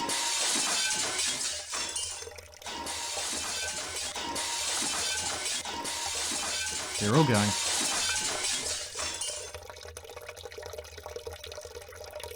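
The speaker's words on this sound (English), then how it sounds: "This time I hear the high-pitched noise of glass cracking." Glass aquarium tanks crack and shatter one after another, bright crashing and splintering mixed with splashing, spilling water, heard under a voice speaking.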